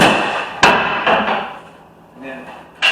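A few sharp wooden knocks and cracks as a wooden side strip is pried off a wheelchair ramp in a backyard, three distinct hits with quieter scraping between.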